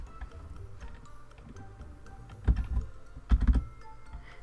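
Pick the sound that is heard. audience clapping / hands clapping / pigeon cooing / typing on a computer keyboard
typing on a computer keyboard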